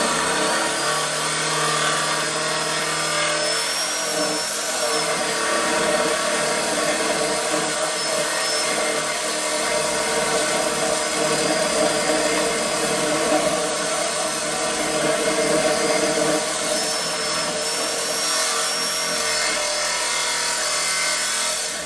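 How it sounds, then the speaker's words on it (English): A Sawzall reciprocating saw cuts through the downpipe of a 1996 Ford F350 7.3 Powerstroke truck, a loud, close, steady buzzing rasp that runs without a break. "I'm going to cut it in here somewhere where I can get easy access with a Sawzall"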